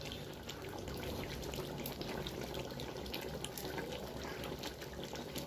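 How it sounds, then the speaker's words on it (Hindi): Cooking oil poured from a large spoon into a pan for a desi-style katta kadai dish, a steady close liquid pouring and splashing wash that runs continuously throughout without any speech. "तभी हम जो है इसमें डालेंगे ऑयल"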